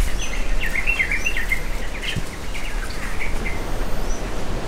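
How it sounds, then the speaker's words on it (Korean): Monkeys at Uluwatu temple in Bali give high, bird-like chirping calls, scattered and repeated over a steady outdoor background hiss. "이게 다 원숭이 소리야."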